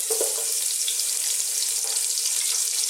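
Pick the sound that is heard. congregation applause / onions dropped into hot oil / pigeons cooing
onions dropped into hot oil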